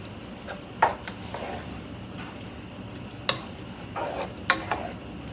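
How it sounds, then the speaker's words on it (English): Seasoned unstuffed cabbage roll mixture stirred in a pan, with a few sharp spoon scrapes and clinks against the pan over a soft steady sizzle, close and fairly quiet, no talking. "Give this a stir."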